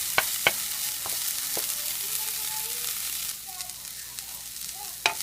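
Cumin seeds sautéing in a pan for jeera rice, a soft steady sizzle with a few sharp pops and crackles, close and continuous, with no talk.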